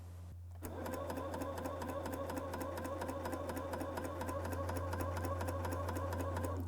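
A Bernina L 620 coverstitch machine sews fabric in a fast, even run of needle strokes over a steady motor hum, close and continuous after a brief quiet start.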